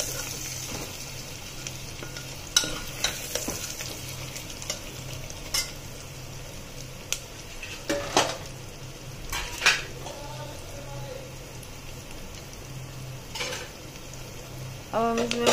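Spices for mutton stew roasting in hot oil in a pan, with a soft steady sizzle under scattered scrapes and clinks of a spoon stirring against the metal, fairly quiet throughout.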